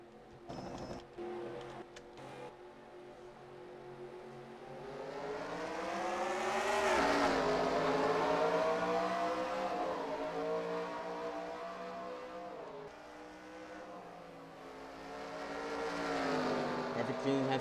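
Race cars in NASCAR Racing 2003 surge forward on a restart, engine drone rising and swelling in pitch, falling back and climbing again, with a commentator talking over the steady roar.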